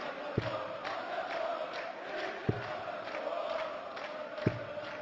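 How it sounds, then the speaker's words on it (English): A darts crowd at the PDC European Darts Championship 2014 sings a chant in support of Vincent van der Voort, steady massed voices in a large hall, with three sharp thuds of darts hitting the board spaced evenly through it. "Some support in the crowd for Vincent van der Voort. They sing that all day, even when he's not on."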